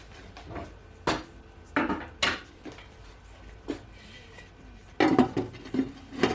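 Metal pot and lid clatter and clink in a home kitchen as a pot of Jamaican oxtail with sweet pepper is covered, several sharp knocks spaced out, then a busier burst of scraping and rattling near the end.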